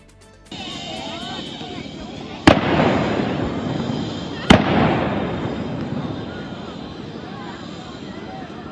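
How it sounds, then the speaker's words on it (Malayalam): Gunfire during a terror attack on tourists: two sharp, loud shots about two seconds apart, each trailing off into echo over a constant background rumble. "ഭീകരർ നിഷ്കളങ്കരായ വിനോദസഞ്ചാരികൾക്ക് നേരെ വെടിയുതിർക്കുന്നത് ദൃശ്യങ്ങളിൽ വ്യക്തം"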